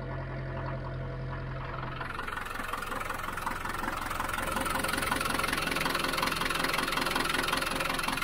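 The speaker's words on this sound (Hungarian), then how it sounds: "Gyönyörű szépen ketyeg a motor" A Land Rover Series 3 engine idles on a frozen winter day, settling after a rough start into a steady, close ticking and knocking rhythm that runs on evenly, with no one talking.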